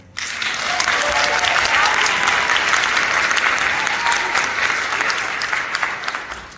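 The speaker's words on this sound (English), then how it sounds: "give Larry another round of applause for it" Audience at a high school scholarship awards ceremony bursting into loud, dense applause right from the start, sustained for several seconds before gradually tapering.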